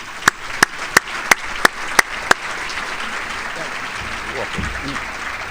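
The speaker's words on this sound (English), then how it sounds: "I would ask you to give a round of applause to Lester" Scattered claps from an audience at an annual awards luncheon, a handful of sharp isolated claps at first, then dissolving into a steady, dense wash of applause that holds to the end.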